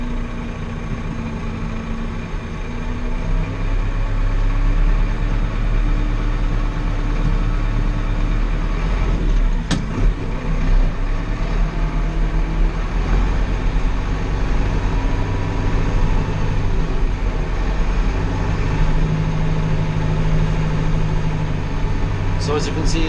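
A tractor fitted with GFX 750 automatic guidance steering drives off at a leisurely pace, its steady low engine drone running throughout beneath someone talking, with one brief sharp click partway through.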